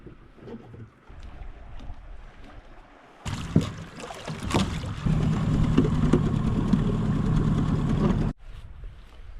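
A boat motors up a river on a wilderness trip, first quiet rustling, then a loud steady engine drone with water wash starting abruptly and running for about five seconds before cutting off.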